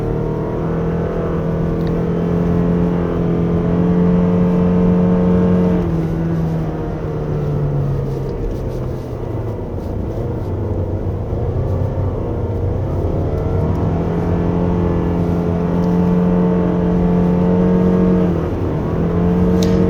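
A 2024 Toyota Alphard 2.5 hybrid pulling hard in sport mode along a slippery winding road gives a steady engine drone that rises and dips with the bends, loud and continuous throughout with no voices.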